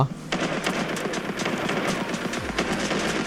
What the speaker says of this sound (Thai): เพื่อนเราไล่ยิง